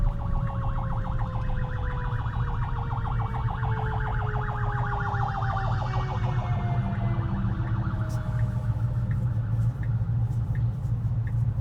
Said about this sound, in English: There's a fire engine coming in the opposite direction